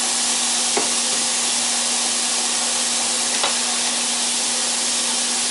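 Steak sizzling in a frying pan for sirloin tips, a loud, constant hiss with a couple of faint clicks, no voices.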